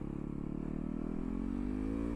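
A Yamaha YZ450FX supermoto, a 450 bike left unused for two years, revs hard and climbs steadily in pitch with a dense buzzing engine note, close and loud, as it pulls a wheelie.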